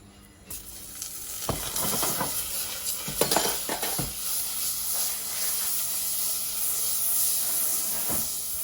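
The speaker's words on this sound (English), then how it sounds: "Melt that butter down." A tablespoon of butter melting in a deep pan, a continuous close hiss and sizzle with a few sharp clanks and utensil taps early on, steady to the end with no talk.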